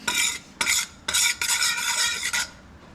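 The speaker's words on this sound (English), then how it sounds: "You can see it's kind of sizzling right now, which is okay." Lamb korma cooking in a pan, with repeated bursts of stirring and scraping against the pan over a faint sizzle, close up, with no voices.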